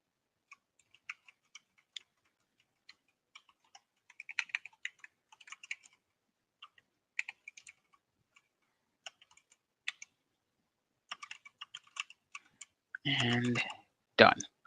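Scattered keystrokes on a computer keyboard tap out quietly in irregular clusters, followed near the end by a brief louder burst that sounds like a voice.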